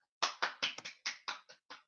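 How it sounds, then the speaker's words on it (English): Scattered hand claps from a small audience at a pub quiz night, about nine distinct sharp claps at an uneven pace, fairly quiet and close, with no talking. "Big round of applause"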